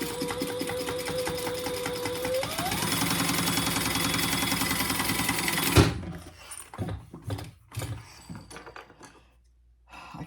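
A sewing machine runs a continuous line of topstitching an eighth of an inch from the edge: a loud, close, rapid whirring rhythm that speeds up partway through, then halts, followed by scattered clicks and handling noises.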